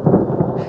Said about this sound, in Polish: Grzmi!